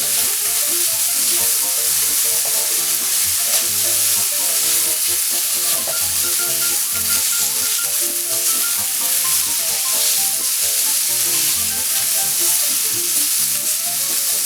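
Cheesesteak meat and peppers sizzle loudly and steadily on a hot griddle, with a spatula scraping and stirring through the frying in a dense, continuous wash of crackle.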